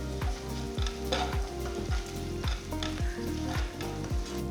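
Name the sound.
curry leaves, turmeric and salt stirred into frying pan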